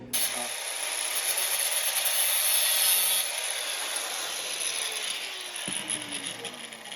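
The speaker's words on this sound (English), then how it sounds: "Right now I'm just grinding in that 45-degree angle here." A 45-degree bevel is being ground onto the edge of a scraper shave, producing a steady, loud abrasive rasp with a high whine that holds for the whole stretch, with a brief scrape near the end.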